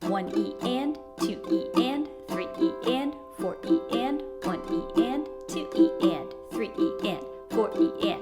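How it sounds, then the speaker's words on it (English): Ukulele strummed without mutes in a steady, even rhythm, its chords ringing on while a voice counts the beats aloud over it. "The strumming pattern without the mutes sounds like this."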